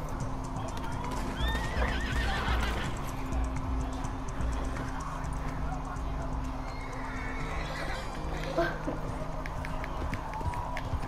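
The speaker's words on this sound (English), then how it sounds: "Your horse is like bugging out right now." A horse in Red Dead Redemption whinnies and gallops with rhythmic clip-clop hoofbeats, layered over game ambience and a low engine-like hum, the neighs rising loudly near the start and again later.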